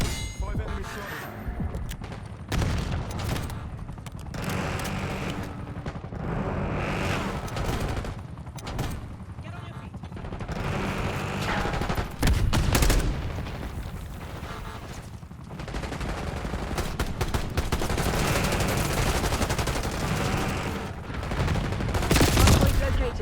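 Gunfire from the Call of Duty Black Ops 6 open beta, a video game: repeated bursts of automatic fire and sharp shots with metallic clangs, fairly loud and continuous with brief gaps, mixed with game effects.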